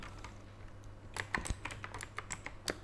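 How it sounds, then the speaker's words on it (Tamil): Keys clatter on a computer keyboard as a channel name is typed, a quiet burst of irregular clicks after a near-silent start, with no talking over it. "சேனலுடைய நேமை டைப் பண்ணிடுறேன்."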